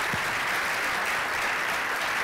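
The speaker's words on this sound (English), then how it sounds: "huge round of applause for Walter and Donna" Dense, even applause from a conference audience for two presenters after a healthcare network talk, a continuous rush of many clapping hands heard from some distance, with no pauses.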